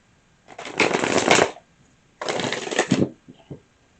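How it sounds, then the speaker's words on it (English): Tarot cards being shuffled by hand in two brisk riffling bursts of about a second each, close and crisp, followed by a few soft taps as the deck settles. "One more shuffle."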